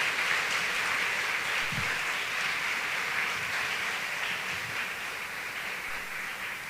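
A church congregation applauds with a dense, steady wash of clapping that fades slightly toward the end, with no voices over it.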